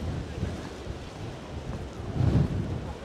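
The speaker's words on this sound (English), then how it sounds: "It's so windy." Steady wind buffeting the microphone on a bridge in New York City, a low rumbling roar that swells briefly near the end, with no voices.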